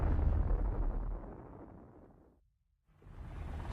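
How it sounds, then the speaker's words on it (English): Hydrogen bomb blast rendered as a deep rumbling roar that fades into silence, then a fresh surge of rushing noise returns, heavy low-end and loud throughout. "It explodes with a force of 10 million tons of TNT, 600 times more powerful than the bomb that destroyed Hiroshima."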